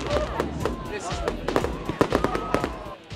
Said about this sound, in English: Once the fire is alight, it's time for fireworks.